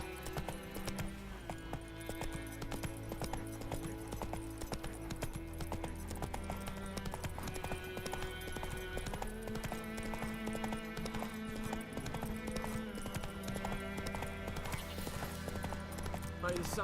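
A horse gallops in The Witcher 3 video game, steady clip-clop hoofbeats running throughout alongside game music, with someone talking over it.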